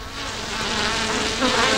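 A bee gives a fine, bright, steady buzzing hum, continuous and fairly close, rising slightly toward the end with no talk.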